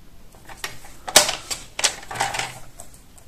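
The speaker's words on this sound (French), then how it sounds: "soit au ciseau, soit au massicot" A paper guillotine trimmer slices through paper while a scrapbook page is being made, giving a few sharp, close mechanical clicks and swishes, with one louder chop near the middle.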